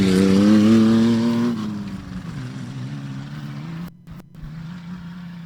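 Race cars at a Rage at the River boat-racing event pull away with loud engine drones whose pitch rises and then fades as they move off into the distance. The engine noise stays steady after that.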